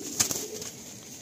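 Madrasi pigeons in a full loft in Kolkata, a couple of short sharp sounds near the start followed by soft low cooing and rustling, close and fairly quiet.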